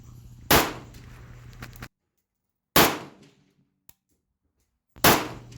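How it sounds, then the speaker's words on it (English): An M90 AK-pattern rifle fires .223 rounds on its first gas setting, three sharp, loud shots spaced about two seconds apart, each cracking out then decaying quickly into near silence. "This 223 firing in the first gas setting, it just nice, buttery, smooth shooting"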